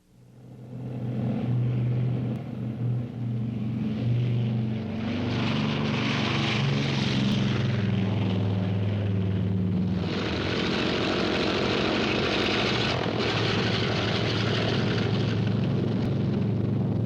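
Propeller aircraft flying in a massed bombing raid on Tarawa, a loud continuous drone of many engines with low throbbing hum, building and swelling steadily throughout.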